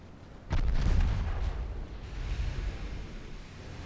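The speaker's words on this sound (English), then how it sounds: "All the guns are hitting the wreck." In a naval video game, battleship guns fire at a burning wreck: a heavy booming salvo hits at once, then a long rumbling tail with smaller bursts rolling underneath, loud and alone without speech.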